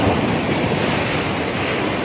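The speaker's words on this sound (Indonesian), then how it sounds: "menyaksikan bagaimana air laut begitu bergemuruh, begitu konsisten mengalirkan airnya, ombaknya" Sea waves surge onto the beach at Anyer, Bali: a loud, continuous wash of surf and rushing water, with wind buffeting the microphone and no voices.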